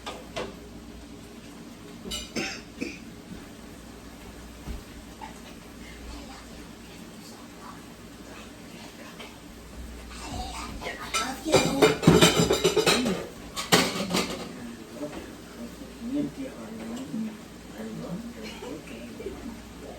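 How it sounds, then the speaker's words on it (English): Chicken fried rice with egg tossed around in a metal pan, heard as bursts of scraping and clattering in the middle over a steady background hum, with quieter utensil knocks before and after. "Yes, so I toss it around"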